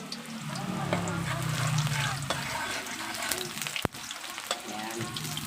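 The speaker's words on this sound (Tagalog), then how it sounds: "nakalagay tayo ng mantika. So ang gagawin natin, lalagay natin itong bawang" Garlic sizzles and crackles in hot cooking oil in a pan for adobong baboy. The frying is steady and close, there is a sharp clink partway through, and a voice speaks faintly underneath.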